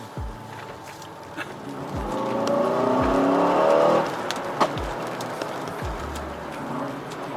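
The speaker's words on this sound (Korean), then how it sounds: "가속 페달을 반 정도만 밟아서 이 차량의 가속 성능을 잠깐 맛보겠습니다" An Aston Martin DBX707 performance SUV in Sport Plus mode accelerates at half throttle on a wet road. The engine note rises steadily and then eases off, heard from inside the cabin with a few faint bird calls.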